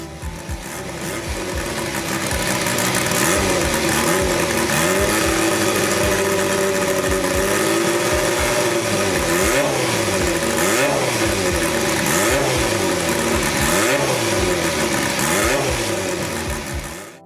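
A mid-pitched four-cylinder engine runs steadily and loud, rising and falling in repeated revs throughout, with no voices.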